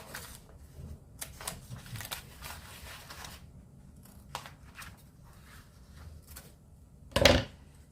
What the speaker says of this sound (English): So now we cut it with the scissors